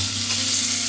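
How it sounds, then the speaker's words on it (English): Onions hitting a hot pan for a beef and leek lasagne, giving a loud, continuous close sizzle with a steady low hum beneath it. "firstly we're going to put our onions in."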